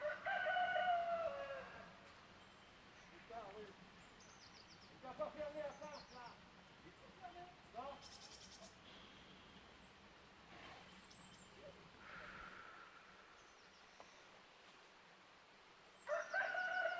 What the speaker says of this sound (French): nous avons des coqs